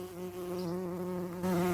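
Steady, close buzzing of bees in and around a hive, a dense droning hum with a sustained tone that swells slightly louder near the end.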